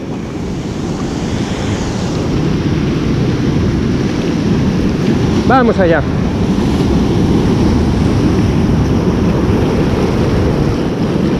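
Sea waves break steadily on a beach shoreline at a sea fishing spot, a loud continuous roar of surf with wind buffeting the microphone and a brief reel-like squeak midway.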